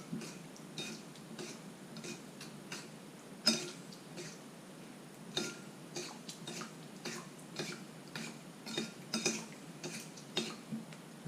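A sauce of sugar, fish sauce and vinegar is mixed for a rutabaga and shrimp salad, with quiet repeated clicks and taps of a utensil against a bowl in an irregular rhythm.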